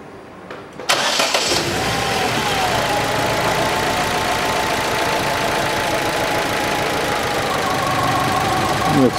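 A 2011 Chevrolet Cruze with the F18D4 engine cranks briefly and fires up, then settles into a loud, steady close idle with a slightly rough, knocking edge, likely from a faulty ignition coil.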